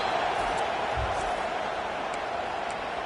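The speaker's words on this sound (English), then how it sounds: "Decibels rising as the crowd gets behind this defense on third down" Stadium crowd roar during a third-down play in the college football video game NCAA 25, a steady wash of massed voices with no breaks, holding at an even level throughout.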